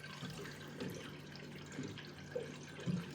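Hot water running from a water cooler tap into a cup, a faint, steady trickle with soft splashing bumps, quiet and close.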